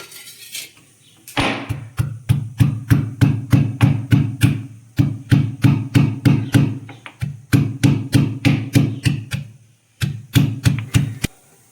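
Ingredients for Chinthamani chicken pounded by hand, a steady run of sharp, close, evenly spaced thuds with a couple of brief pauses, heard alone.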